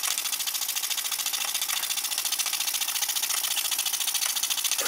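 A model steam engine driving a Baker fan gives off a fast, steady mechanical rattle and chuff with a hissing edge, even and close, with no voices.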